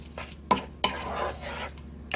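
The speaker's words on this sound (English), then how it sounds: "we're frying this cabbage" Cabbage frying in butter in a pan gives quiet scraping and clinking as it is stirred, with a soft sizzling hiss in between.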